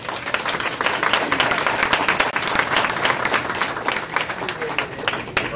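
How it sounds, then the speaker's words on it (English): A room at a Saturday training session breaks into a steady round of applause, dense clapping running the whole time at an even loudness with a few voices mixed in. "Give her a round of applause."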